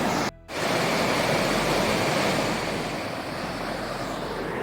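A fast river at peak summer flow roars at a trail crossing on the Timberline Trail, a loud, continuous broadband rush close by with wind buffeting after a brief dropout at the start.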